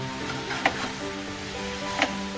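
Grated carrots sizzle softly in a pan over medium heat while roasting for gajar halwa. A steady, low frying hiss runs throughout, with a couple of faint stirring clicks.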